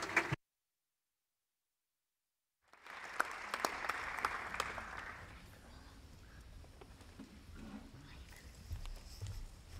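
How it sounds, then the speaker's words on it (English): Audience applause for a youth choir at a conference kick-off event fills most of the clip, starting after a brief silent gap and holding as steady, full clapping that gradually thins toward the end. "Big applause for White Hand Chorus Nippon."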